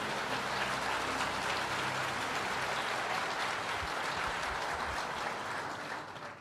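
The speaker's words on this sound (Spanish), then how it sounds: "Dele un aplauso al Señor" A church congregation applauds the Lord, a dense, even wash of many hands clapping together, loud and sustained before easing off at the very end.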